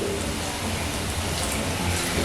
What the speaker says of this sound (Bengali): আর বাকি যে আলুর কোপ্তাগুলো রেডি করে রেখেছি সেইগুলোকেও একইভাবে আমি লাল লাল করে ভেজে নিচ্ছি।